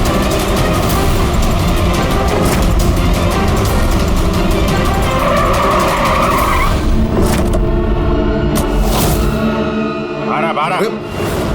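A car speeding with tires squealing and skidding in a chase scene from a crime drama, a loud continuous engine roar with screeching rubber and sharp bursts near the end.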